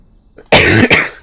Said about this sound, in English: I've been coughing like this for like a week and a half now